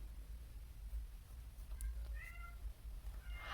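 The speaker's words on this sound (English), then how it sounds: "my cat is having a fit outside my door." A cat meows outside a door, a few short cries around the middle and a louder one at the end, faint and somewhat distant over a low steady hum.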